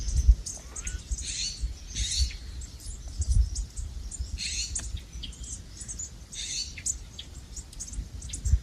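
Several birds chirp and call in short bursts over a soft outdoor background, some calls brief and sharp, scattered across the scene at moderate distance.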